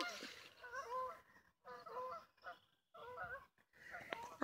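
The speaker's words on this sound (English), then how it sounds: "Oh, I hear some geese." Several geese honk in repeated bursts of nasal calls, fairly distant and faint, separated by short pauses.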